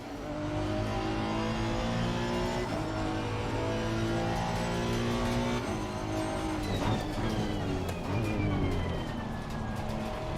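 Race car engine in Assetto Corsa Competizione, a loud continuous drone that climbs and drops through gear changes, with a whining pitch sweep near the end, close and alone.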